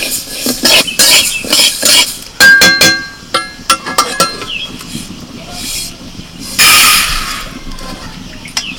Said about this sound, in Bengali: আমি এদিকে উনুন ধরিয়ে মুগের ডাল ভাজছি।